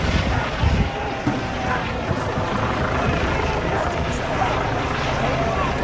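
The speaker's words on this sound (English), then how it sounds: "That chopper is low." A low-flying helicopter passes overhead with a loud, steady rotor roar and rumble mixed with wind buffeting on the microphone.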